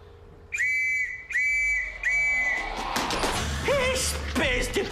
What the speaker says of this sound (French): C'est quoi déjà le code de sifflet pour dire qu'on a réussi une mission?